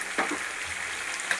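Curry leaves hit hot oil for a mutton ghee roast, giving a steady close crackling sizzle with a brief spatter at the start and stopping abruptly.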